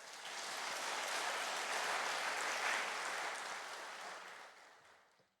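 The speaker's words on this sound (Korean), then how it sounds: "박수로 맞이하겠습니다." Church congregation applauding at a Sunday morning revival service as the pastor comes forward, a steady wash of many hands clapping that swells, holds for several seconds, then fades away.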